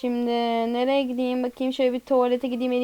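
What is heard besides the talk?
No distinct noise like a dog, phone or traffic.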